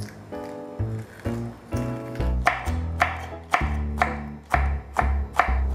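A knife chops hot peppers into small pieces on a board, giving a steady series of firm, evenly spaced strikes over quiet background music, with no talking.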